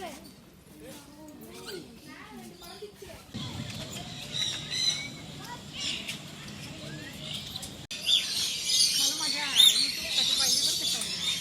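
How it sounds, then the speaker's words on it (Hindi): A bird at a Singapore bird attraction gives chirps and squawking calls that grow louder toward the end, mixed with crowd noise and nearby voices talking over much of it. "इस पक्षी का सौंदर्य और आचरण सबसे अलग है और ये पक्षी बहुत ही शानदार है।"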